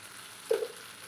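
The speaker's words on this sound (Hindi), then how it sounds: "तो चलिए अब इसे ऐसे ही भूनते हुए पकने देते हैं ढक के।" Pumpkin sabzi, bhandara style, frying and cooking under a lid in a pan, giving a soft, steady low hiss with one brief louder bubbling flare midway.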